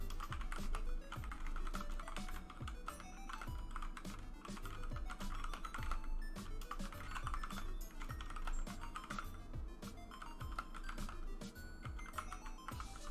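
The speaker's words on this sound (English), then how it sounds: "Yeah, you've been typing a lot." Rapid clicking of a computer keyboard, bursts of keystrokes in an uneven rhythm, close up over a faint tonal background.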